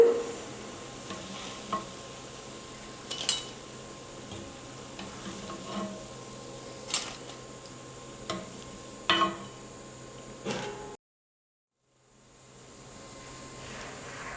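Chana dal bonda fritters deep-frying in hot oil over medium heat, a soft continuous bubbling sizzle with intermittent ladle taps and stirring clicks, briefly cutting to silence near the end before resuming.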